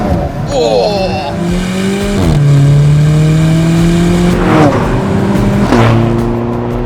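A sports car with only 237 horsepower launches hard from a standstill to 60 mph in about four and a half seconds, its engine note climbing steeply through several upshifts, loud and close, with brief excited speech over it.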